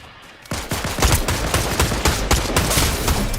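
Rapid bursts of gunfire from the video game Fortnite crackle loudly, a dense run of sharp shots firing in quick succession after a brief quiet start.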